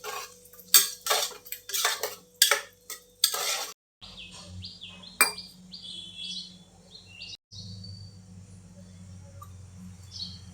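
Spoon scraping and clattering against a pot while rice is stirred into tempering for veg pulao, a burst of sharp close metallic strokes followed by softer mixing, with birds chirping in the background.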